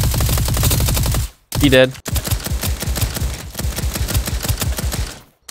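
Rapid automatic gunfire in Roblox Bedwars battle royale mode, loud close bursts of evenly spaced shots with brief pauses between volleys and a short spoken remark in between.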